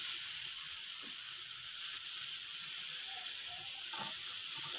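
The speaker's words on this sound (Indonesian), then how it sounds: "Setelah minyak panas, aku goreng." Ground kencur, shallot, garlic and candlenut fry in hot oil, giving a steady bright sizzle that is close and continuous, with a few small pops and no talking.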